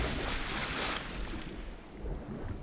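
Water splashing and surging in the Legend of Grimrock 2 video game as a character dives out of the water, a loud, steady wash of surf-like noise that eases off slightly partway through.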